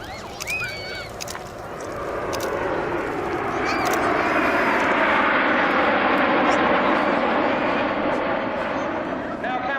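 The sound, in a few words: Spitfire aircraft flying past at air show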